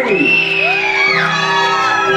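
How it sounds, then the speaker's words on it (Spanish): Girls shout and whoop loudly at a quinceañera, sustained rising and falling cries blending into a close, energetic crowd roar. "Y las amigas de Ginny gritan así"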